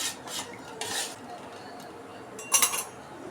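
A spoon stirs lemon juice into cooled sugar syrup in a vessel, making a few short swishing strokes and a brief cluster of metallic clinks near the end, close and fairly quiet.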